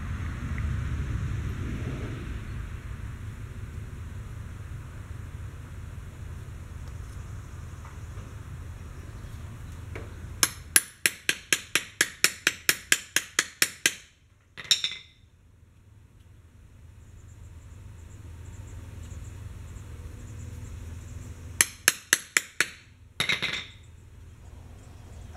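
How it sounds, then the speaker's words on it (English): A hole punch is hammered through a gasket resting on the end of a piece of hardwood: two quick runs of sharp, rapid hammer blows, about a dozen taps each, loud and close, with a quiet hum between them. "I moved the punch over a little and cut the edge out of the first hole to make the hole bigger"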